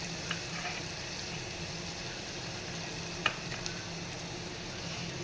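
Onion and garlic sauté in a pan while a cluster-bean vegetable dish is prepared. A soft, continuous sizzle runs evenly throughout, with a few faint stirring clicks and a small sharp tap partway through.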